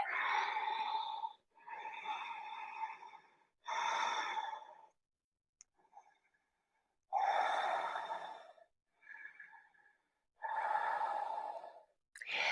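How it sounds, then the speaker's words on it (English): Deep yogic breathing, slow audible inhales and exhales alternating in long drawn-out breaths with short quiet pauses between them, close and intimate, with no talking. "Inhale. Exhale."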